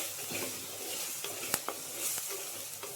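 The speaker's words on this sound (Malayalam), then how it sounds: "4-5 പച്ചമുളക് നെടുക്കിയത്, ഇത്രയും ഇട്ട് ഒന്ന് ഇളക്കുക" Chopped green chillies stirred in a hot pan for a chicken and ash gourd dish make a soft, continuous sizzle, with a few quick scrapes and taps of the spoon against the pan, fairly quiet and close.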